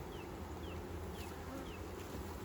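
Honey bees drone steadily at an open hive during a frame inspection, a dense, continuous buzz that fills the whole stretch at close range with no talk over it.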